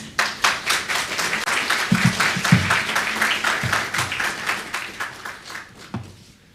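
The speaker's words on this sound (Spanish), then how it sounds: "Vamos a invitar con fuerte aplauso." A church congregation applauds at a special service to welcome a visiting pastor. The clapping is loud and lively, and a few voices cheer briefly as it fades at the end.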